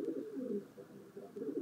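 A crow in Sapporo, in a scramble over meat, gives soft, low, repeated cooing calls close by, in short phrases with brief gaps.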